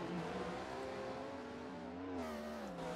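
Race cars in a Formula Dream racing video game weaving past lapped cars at the South African Grand Prix, a steady high engine whine shifting pitch slightly as they pass, with no voices over it.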